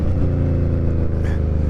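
An Indian Scout Bobber motorcycle with a slightly oversized rear tyre rumbles steadily while being ridden, a loud, close, continuous low engine drone with even pulsing and no breaks.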